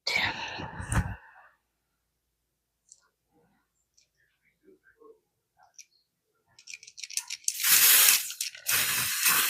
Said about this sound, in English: It's like spray paint.